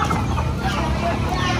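Pet chickens cluck busily around a backyard coop as they are fed and let out, several birds overlapping in a dense, close, continuous clucking chorus.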